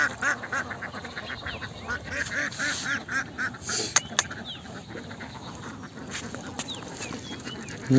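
A flock of ducks quacks repeatedly in a rural setting, with dense overlapping calls at moderate distance alongside other birds and scattered splashes.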